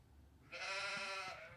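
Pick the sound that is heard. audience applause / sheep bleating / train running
sheep bleating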